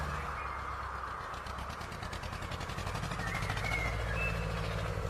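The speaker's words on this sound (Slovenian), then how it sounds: "Kmet gre s traktorjem obdelovat njivo." A tractor engine idles and rumbles nearby, a continuous low mechanical drone with a faint rhythmic chug and no voices.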